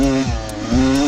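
Beta RR125 two-stroke enduro motorcycle engine under way, a steady buzzing drone with the revs dipping and rising again, close and loud.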